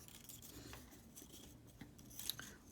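Scissors snip through paper strips for quilling, a few quiet, soft cuts alone in a hushed room.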